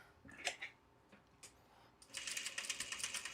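A sewing machine stitches a piece of fabric, with a few soft handling clicks at first and then a fast, steady mechanical clatter that runs close and clear to the end.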